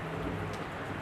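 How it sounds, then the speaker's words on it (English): Heavy rain pours down steadily outdoors, a dense continuous hiss filling the moment without pause or speech. "The rain a fall"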